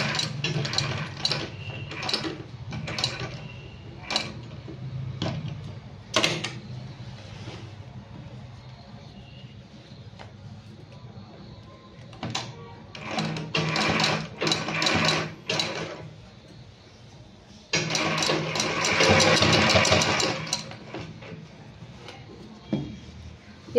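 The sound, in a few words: sewing machine stitching fabric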